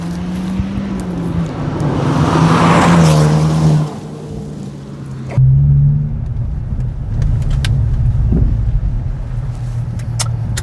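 A Hyundai i20 N hot hatch drives hard, its engine climbing in revs, dropping on a gear change, then pulling again, heard steadily from inside or close by, loud, with tire and road noise and no talk.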